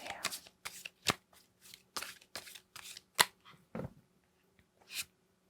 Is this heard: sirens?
no